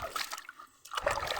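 Spring water trickling and splashing as it is drawn, a close, continuous liquid patter that briefly quiets before resuming.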